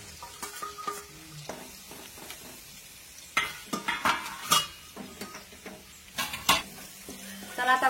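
Crushed garlic fries with mustard seeds and cumin in oil for a Maharashtrian chickpea usal, a steady close sizzle broken by repeated scraping stirs and sharp utensil knocks against the pan.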